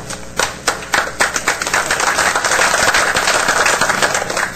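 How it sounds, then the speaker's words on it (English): An audience at a higher education advisory committee meeting claps, starting as scattered individual claps and swelling into steady, dense applause that carries through to the end with no talk over it. "You're the only one who's gotten applause"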